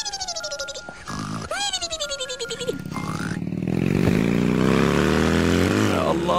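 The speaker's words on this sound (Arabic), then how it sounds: "هي موتوسيكل ولا F16؟" A loud motorcycle engine roars up and revs as it passes on a street in Lebanon, building into a sustained, heavy rumble that swells close by, following a series of rising whining tones.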